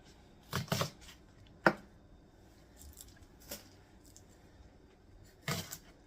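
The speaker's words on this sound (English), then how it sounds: "We need some green onion." A knife chops green onion on a board in a few separate bursts of quick cuts with pauses between, close and fairly quiet, with no talking.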